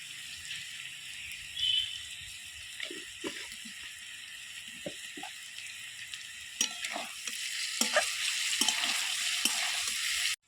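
Radish and shrimp fry in a pan with a soft, steady sizzle, broken by scattered clinks and scrapes of stirring that grow busier toward the end before stopping abruptly.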